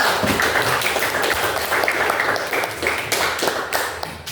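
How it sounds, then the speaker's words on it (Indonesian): A classroom group claps steadily for several seconds, a dense, continuous patter of applause from many hands with no pauses. "Kasih tepuk tangan untuk kita semua."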